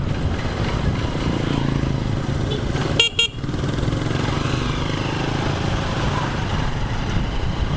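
A 2023 Honda XR150L motorcycle rides along a valley road, its engine a loud, steady drone and wind rush throughout, broken by a short double horn toot about midway.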